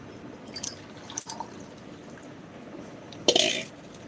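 A few short splashy bursts of water being poured into a glass, with quiet gaps between them and a longer pour near the end.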